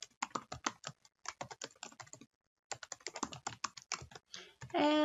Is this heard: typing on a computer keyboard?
yes